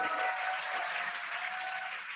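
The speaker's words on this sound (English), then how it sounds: "You can hear the crowd here." Crowd applauding and cheering during a SpaceX Dragon capsule return, a dense, continuous wash of clapping at moderate distance, with a faint steady tone running underneath.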